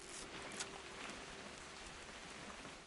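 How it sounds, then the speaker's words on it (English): Video game rain: steady, dense rainfall with a constant hiss of drops hitting surfaces, even and unbroken throughout, with no voices. "It's gonna rain the whole weekend, isn't it?"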